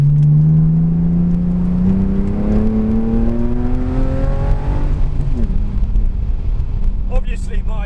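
Car fitted with a straight-piped exhaust accelerates hard, its engine note climbing steadily in pitch through a long pull and then settling, loud and close with constant wind noise.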